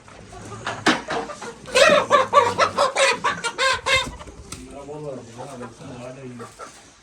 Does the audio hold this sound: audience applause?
no